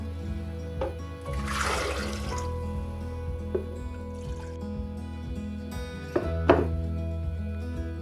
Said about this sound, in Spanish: Igualmente medimos nuestro litro de agua.